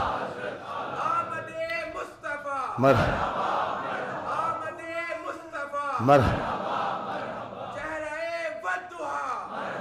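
A crowd at a religious gathering shouts slogans in loud, rhythmic bursts, with strong collective cries at regular intervals over a continuous murmur of voices.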